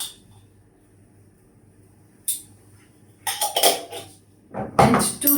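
A clean spoon scoops bicarb soda for homemade natural deodorant, giving a few sharp clinks and scrapes against its container after a quiet start, loudest near the end.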